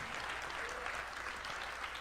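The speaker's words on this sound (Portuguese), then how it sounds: "Vamos dar uma salva de palmas bem forte à palavra de Deus?" A church congregation claps for the Bible during a sermon, a steady, even wash of applause from many hands, moderately soft and somewhat distant throughout.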